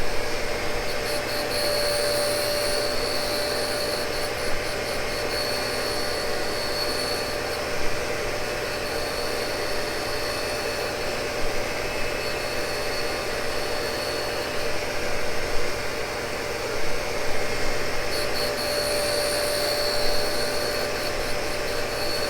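A shop vacuum runs beneath a Cincinnati tool and cutter grinder that is precision grinding Morse tapers, giving a loud, continuous airy whine with a faint high tone that comes and goes and small bumps of grinding noise, with no talk.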